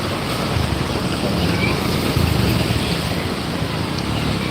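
Water pours across a road like a small waterfall near Krishnagiri, a continuous loud rushing wash with wind buffeting, steady throughout.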